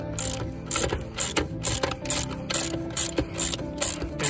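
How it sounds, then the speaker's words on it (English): A ratchet wrench tightens a bolt on a MerCruiser V8 engine mount, giving a close, loud run of clicking pawl strokes in a steady back-and-forth rhythm with no talking. "And now we're going to tighten this one up on this side."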